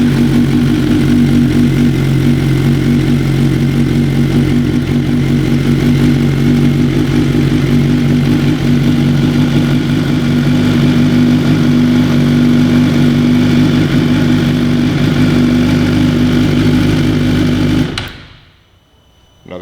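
A 2018 Suzuki GSX-R1000 REV2 sportbike engine idles loudly and steadily at close range with a constant low rumble for about eighteen seconds, then cuts off abruptly into near silence.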